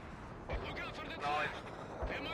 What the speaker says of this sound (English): Maybe I guessed lucky with these artillery.